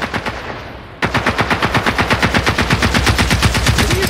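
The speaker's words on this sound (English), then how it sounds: "What are you shooting at, dude?" Machine gunfire in the game Generation Zero: a few quieter shots trail off, then a loud, rapid sustained burst of steady automatic fire rattles on for about three seconds without pause.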